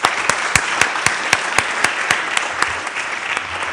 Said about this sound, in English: please big applause to support and encourage our students